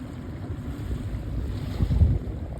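Sea waves roll at the shore under steady gusting wind that buffets the microphone, giving a continuous low rumble with a slightly louder swell toward the end.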